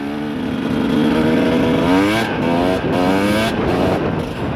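A new YCF motorcycle's engine runs loud and close, revving up and down in repeated surges with a rough, rasping tone.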